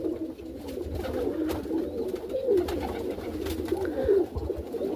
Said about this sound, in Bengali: এখানে যে কবুতরগুলি দেখতেছেন